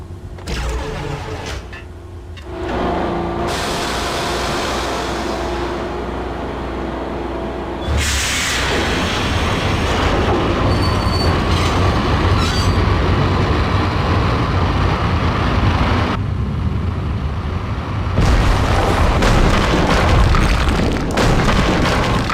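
An electric train in Max Payne powering up as its lights come on, with deep booming surges and a rising mechanical hum that builds in stages into a loud, sustained electrical drone.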